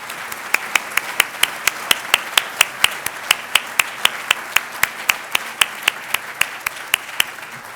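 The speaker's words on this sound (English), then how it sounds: "Please join me in a huge round of applause." Steady, evenly spaced clapping at a Rotary Club meeting, about three sharp claps per second in unison, continuing without voices.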